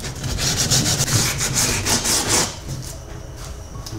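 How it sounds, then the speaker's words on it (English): Sandpaper rubbed back and forth over the rough cut edges of a plastic kayak hatch opening on a 2019 Hobie Outback, loud close rasping strokes in a steady rhythm that ease off toward the end. "I got a little piece of sandpaper here, and basically I'm just going to use this to get all these raggedy shavings off"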